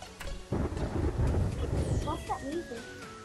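Thunderstorm music plays in Terraria, rumbling low like thunder with rain-like hiss, while soft tonal game sounds glide above it; a brief voice may be heard near the start.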